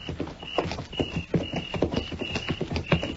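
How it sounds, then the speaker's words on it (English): Horses' hooves clip-clop in a steady walking rhythm for a radio Western drama, crisp close hoofbeats with a faint jingle of tack. "Yes, but what about that 4th horse, Mr. Dillon?"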